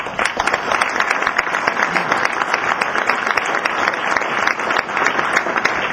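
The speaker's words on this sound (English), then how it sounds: "Round of applause again for them" A university audience at a logo and brand identity release gives a sustained round of applause, dense rapid clapping that stays fairly loud and even throughout.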